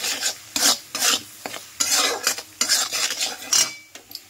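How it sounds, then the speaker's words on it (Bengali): A spoon stirs and scrapes spices with salt and turmeric in a metal pan, giving repeated loud scraping and clinking strokes in irregular bursts, close and alone without talk. "এবার মশলাটার সঙ্গে ভালো করে সব মিশিয়ে নেব।"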